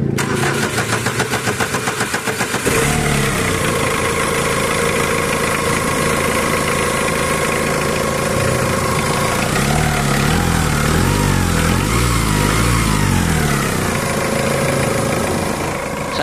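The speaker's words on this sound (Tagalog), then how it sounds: "Kaya ang gagawin ko dyan, pa-start ko na itong makina." A Mitsubishi Adventure engine, suspected of worn timing-belt bearings, cranks with rapid rhythmic chugs for about two seconds, then catches and settles into a loud, steady idle with an uneven rattling undertone.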